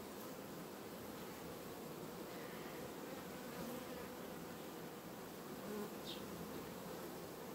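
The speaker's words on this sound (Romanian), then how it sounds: "Iată ce de albină are asta." Honeybees swarm at a hive, producing a dense, continuous buzz of many insects that stays even and moderately loud throughout, with no voices.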